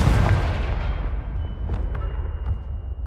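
A Confringo blast spell erupts in a Hogwarts video game, a heavy booming explosion that hits hard at the start and rumbles off over a few seconds with faint crackling debris.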